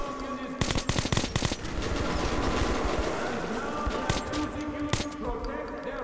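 Automatic machine gun fire in the video game Metro 2033 Redux, rapid bursts of loud shots followed by a dense sustained rattle, with a voice briefly underneath.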